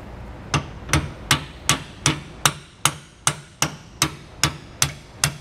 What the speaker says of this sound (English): we're just going to take a hammer and we're just going to tap it the rest of the way